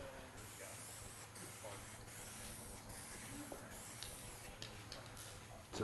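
Bed liner coating is sprayed from a spray gun in a workshop, producing a steady, loud, continuous hiss for the whole stretch, with slight fluctuations and faint background sounds.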